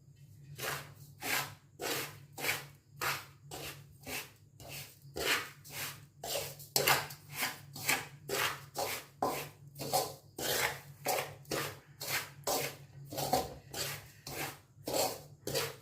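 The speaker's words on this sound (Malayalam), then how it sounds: "ഇനി ഇതെല്ലാം കൂടെ ഒന്ന് മിക്സ് ചെയ്യാം." Rhythmic scraping and rubbing as a mixture of salt and spices including fennel seeds, nigella and ajwain is stirred by hand, about thirty evenly spaced strokes, close and fairly quiet, with a faint steady hum beneath.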